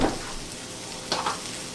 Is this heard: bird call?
no